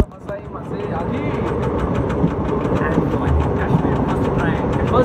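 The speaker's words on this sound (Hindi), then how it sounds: "देखो ट्रेन निकल पड़ी" A local passenger train pulls away and rolls on, heard from inside the carriage as a constant loud rumble with rhythmic clacking of the wheels, while a person talks over it.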